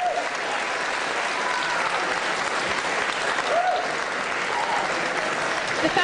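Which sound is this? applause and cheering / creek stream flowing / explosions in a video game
applause and cheering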